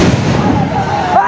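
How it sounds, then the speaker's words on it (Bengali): A police sound grenade goes off in a crowd confrontation after a funeral, a loud sharp blast within continuous noise, with shouting voices throughout. "পুলিশ কিন্তু ইতিমধ্যেই সাউন্ড গ্রেনেড মেরেছে।"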